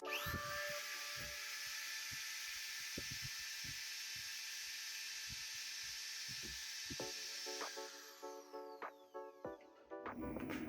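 An electric drill whirs steadily at high speed for several seconds, then stops, followed by a few clicks and clatters nearby; no voices. The drill is powered through an automatic transfer switch.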